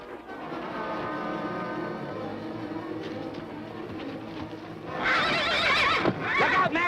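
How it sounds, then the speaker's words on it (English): Horse in a western drama lets out a loud, shrill whinny near the end, preceded by hooves clip-clopping under a busy, tonal background. "That horse is a killer!"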